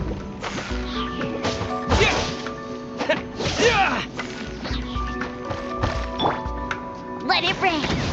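Heavy Terra Smash attack impacts in Genshin Impact combat, a string of loud crashing thuds and whacks scattered irregularly through the stretch, mixed with game music tones and layered under character voices.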